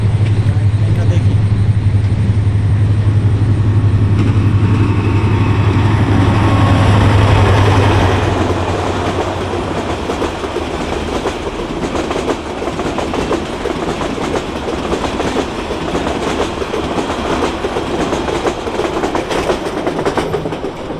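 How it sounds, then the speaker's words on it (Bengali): The Rangpur Express, a passenger train, passes close by with a loud, heavy rumble and rhythmic clickety-clack of wagons over the rails that slowly eases as the carriages roll on. "ওই যে রংপুর এক্সপ্রেস আসতেছে"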